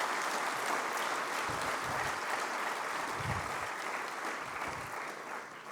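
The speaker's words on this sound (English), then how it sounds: "Let's give all these 3 Kers a big round of applause." Audience applause at an IIMB Alumni Association event honouring the conveners, a broad steady wash of many hands clapping that fills the clip and fades slightly toward the end.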